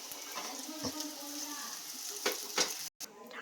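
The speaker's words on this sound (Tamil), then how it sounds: "அடுத்தது வந்து உருளைக்கிழங்கு போட்டுக்கலாம். நல்லா வதங்கிடுச்சு." Potatoes sauté in oil for a somas filling, producing a soft continuous sizzle with a few spoon scrapes and clicks, fairly quiet and cut off briefly near the end.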